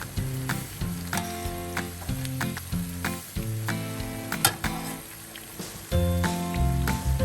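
Keerai paruppu vadai, spinach and lentil fritters, frying in hot oil, a loud close bubbling sizzle with intermittent crackles and stirring knocks that swells toward the end, with no talking.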